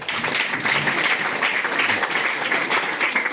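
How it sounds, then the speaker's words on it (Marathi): An audience at a Phule and Ambedkar birth anniversary lecture breaks into loud, sustained applause, a dense wash of many hands clapping continuously with no voices heard. "तुमचं सगळ्यांसाठी एकदा जोरदार टाळ्या वाजवूया आपण"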